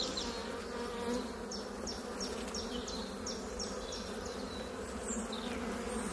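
A swarm of honeybees hums steadily around brood frames in a hive, a dense, continuous buzz close by with individual bees whining past now and then.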